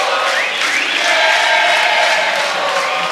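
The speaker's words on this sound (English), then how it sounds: "the hometown crowd here in Brasilia letting Diego Paiva hear it" A hometown crowd at a mixed martial arts fight in Brasilia roars loudly and steadily, a dense wall of cheering and shouting that holds at full volume throughout.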